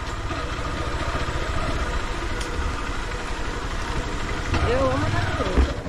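A motorcycle engine idles steadily beside a clear river at a waterfall spot in rural Bahia, Brazil, a low continuous rumble running under people talking nearby.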